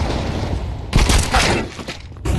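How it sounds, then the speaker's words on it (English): Burst of Counter-Strike 2 gunfire and grenade blasts, a dense cluster of shots and booms under a faint voice, rising sharply after a quieter start and trailing off. "A lot of shots, a lot of nades, a lot of flashes."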